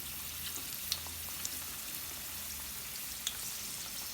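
Egg rolls fry in hot oil, giving a quiet, even, hissing sizzle with a few faint pops and crackles throughout, no talking.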